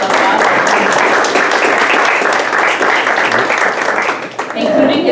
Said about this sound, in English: let's give his family a big round of